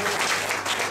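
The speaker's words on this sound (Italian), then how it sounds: "un applauso a Paolo per l'impegno profuso" Audience applause for Paolo at a union congress in Livorno, a dense steady wash of clapping filling the hall for a short burst with no voices standing out.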